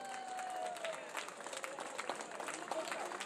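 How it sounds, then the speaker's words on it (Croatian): Crowd applause at the Mokropoljski susreti 2013 village gathering, greeting the Mokro Polje team after their win, a dense steady patter of many hands with voices and cheers mixed in throughout. "Aplauz za Mokro polje."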